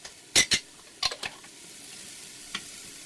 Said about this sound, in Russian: Баклажаны помешиваю по-прежнему